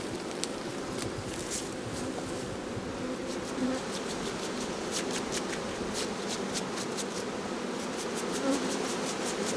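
A dense, steady hum of many honeybees buzzing close by, continuous and busy, with faint scratchy brushing and rustling on top.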